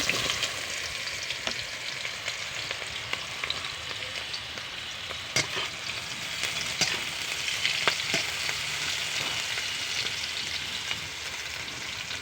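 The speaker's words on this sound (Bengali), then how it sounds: "এবার লতিগুলো আমি হালকা একটু ভেজে নেব।" Taro stolons frying in hot oil in a wok with five-spice tempering, a dense continuous crackling sizzle with occasional clicks of a stirring utensil, close and steady, no voices.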